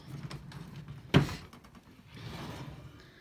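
A vanity drawer slides open with one sharp, close knock partway through, followed by faint rustling; no one speaks.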